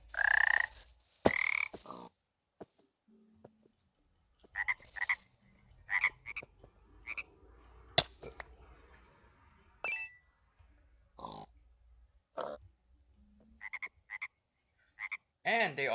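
Frogs in the Hexxit Minecraft modpack croak in short, separate bursts with silent gaps between, mixed with a few sharp clinking game sounds.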